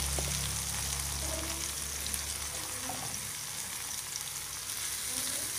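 Cut water spinach (kangkung), washed clean, stir-frying in a hot pan, with a dense, steady sizzle and hiss that holds at one level throughout, close and with no talking.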